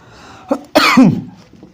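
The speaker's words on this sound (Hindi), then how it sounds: "थोड़ी सी खांसी है भाई, दिक्कत होती रहती है, सर्दी हो गई" A single harsh, close cough from a person with a cold, following a brief throat sound, loud and abrupt.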